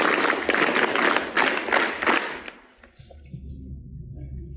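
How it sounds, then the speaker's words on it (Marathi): Schoolchildren at a residential ashram school near Nashik clap together in a loud, dense burst for about two and a half seconds. The clapping stops abruptly, leaving a quiet room hum. "तुमचं कौतुक करायला एकदा टाळ्या वाजवायला हरकत नाही"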